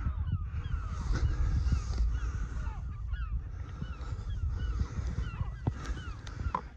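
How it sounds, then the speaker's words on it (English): A flock of twelve geese flies overhead honking repeatedly, the calls overlapping in an irregular chorus over a steady rumble of wind or a boat engine nearby. "The 12 geese"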